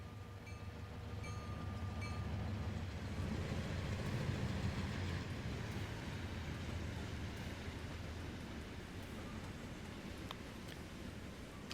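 A short freight train in the Trainz 2019 simulator rolls along with a steady low rumble and faint rail clatter. It swells slightly mid-run and then holds, with no voices over it.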